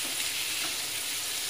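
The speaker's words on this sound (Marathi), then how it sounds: "हे रताळू आपल्याला चांगले त्याच्यात फ्राय करून घ्यायचे तुपात." Sweet potato slices frying in ghee in a pan, a dense, even hiss of sizzling that stays close and constant for the whole short stretch.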